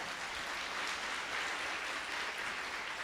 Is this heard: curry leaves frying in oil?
no